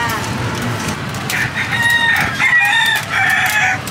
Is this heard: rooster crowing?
yes